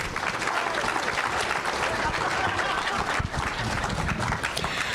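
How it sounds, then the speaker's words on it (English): Steady applause from a live audience honoring a couple, dense continuous clapping throughout with crowd noise mixed in, fairly loud and sustained. "Let's give them a round of applause."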